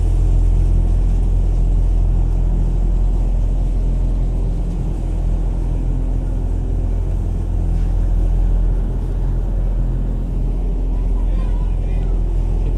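Ferry boat engine crossing Lake Toba toward Samosir, a loud steady low rumble and drone running unbroken throughout, close and constant.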